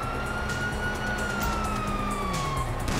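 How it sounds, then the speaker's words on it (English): Police sirens wail in Grand Theft Auto V, a steady rising and falling tone that carries through the full stretch over a busy, rumbling background of game action, with no one talking. "you hear that? Sirens!"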